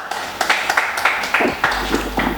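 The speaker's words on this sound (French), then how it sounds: "Acclamons très fort cette présence." A church congregation applauds together with steady, rhythmic bursts of clapping that carry through the hall, loud and sustained, with no clear speech on top.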